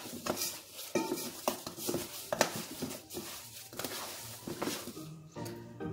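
Lamb pieces seasoned with salt and pepper are stirred in a pan, with repeated metallic scrapes, clinks and knocks of a utensil against cookware in an uneven rhythm, close and fairly quiet, with no talking.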